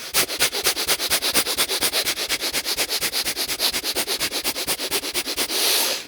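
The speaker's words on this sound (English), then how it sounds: "Bhastrika breath" Bhastrika bellows breathing in a yoga practice: a rapid, even train of about forty forceful nasal breath pulses at roughly seven per second, close and loud, ending in one longer breath.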